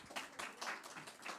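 An audience at a book presentation applauds, with steady, fairly faint clapping from a modest crowd in a hall.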